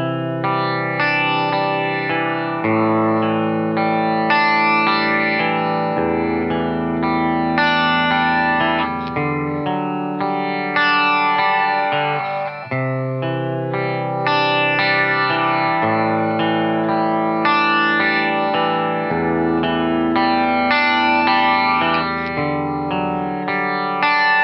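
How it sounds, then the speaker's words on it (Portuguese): A second electric guitar part from a song, played through chorus and distortion effects, with sustained chords and riffs ringing with echo and reverb, loud and continuous, no voices. "Já a outra guitarra, a guitarra 2, toca praticamente do mesmo jeito,"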